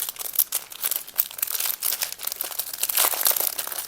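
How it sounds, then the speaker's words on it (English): Plastic packaging of a diamond painting kit crinkles and crackles up close as it is opened, a busy, irregular burst of rustling and crunching with no talk. "I'm so sorry for the crinkling."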